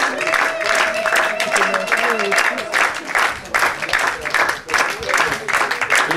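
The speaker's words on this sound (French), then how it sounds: "Et cet applaudissement aussi pour tous les gens qui sont à la lumière, qui sont au son évidemment" Audience applause at a Paris poetry slam, steady dense clapping filling the room throughout with some crowd voices mixed in.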